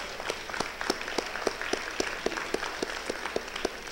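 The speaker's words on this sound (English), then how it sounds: "So let's give a round of applause to the Black History Month Committee." Audience applause at a college Black History Month opening celebration, a brief burst of scattered hand clapping with distinct individual claps at a moderate distance.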